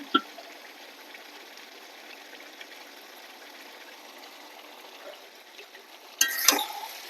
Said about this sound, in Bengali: এবার একটু ভালো করে কষিয়ে নেব।